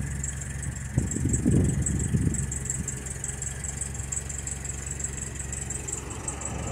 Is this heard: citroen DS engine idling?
yes